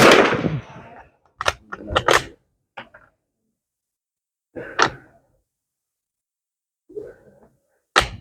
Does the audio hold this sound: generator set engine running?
no